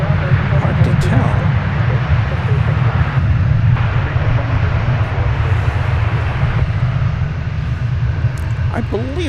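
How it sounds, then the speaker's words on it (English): Airbus A321 airliner at DFW airport, its engines producing a steady, loud low roar that fills the whole stretch, with faint voices underneath. "I believe this is flight 448, an Airbus A321 going to Los Angeles."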